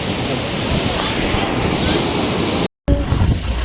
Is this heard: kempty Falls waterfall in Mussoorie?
yes